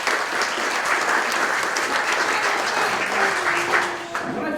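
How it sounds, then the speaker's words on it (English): Loud, sustained applause from an audience at an award ceremony, dense and steady throughout before tapering slightly at the end. "A round of applause."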